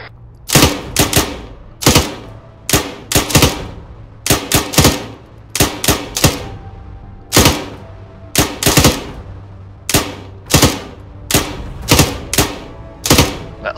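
Gunfire at a training exercise, with bursts of sharp cracks near the building behind the hospital, coming in short irregular clusters throughout with brief gaps between them.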